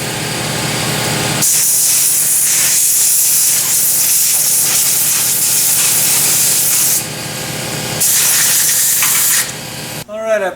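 Compressed air blasts loudly through the parts of a 1982 Yamaha XT200 motorcycle with the tank removed, in long sustained hissing bursts with a short pause, close by and dominant.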